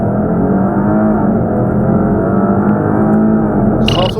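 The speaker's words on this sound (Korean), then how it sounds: "그러면 이번에는 쿼트로 포르테 SQ4의 가속 성능에 대해서도 한번 알아볼까요?" Maserati Quattroporte S Q4 accelerating hard, a loud, steady engine drone with rising harmonics held throughout and no one speaking, ending in a brief higher whine.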